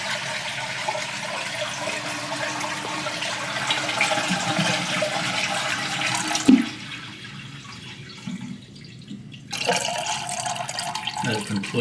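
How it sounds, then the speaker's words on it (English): A household toilet flushes and drains with its supply valve turned off, a steady close rush of water that surges, then drops to a thin trickle and gurgle before swelling briefly again. "just flush and hold it up."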